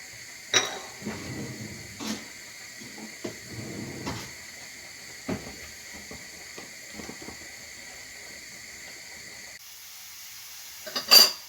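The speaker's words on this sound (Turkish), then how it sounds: "Ve soğanı kavuruyorum. Soğan, sarımsak." Onion and garlic sauté in oil in a pan, giving a soft sizzle with scattered clicks and utensil scrapes, fairly quiet and close, with a louder clatter near the end and no talking.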